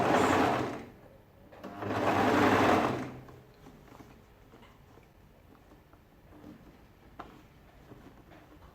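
A sewing machine stitches a ladies' shirt dress in two short, loud bursts of fast whirring, separated by a brief pause, followed by quiet handling and faint clicks of fabric being arranged.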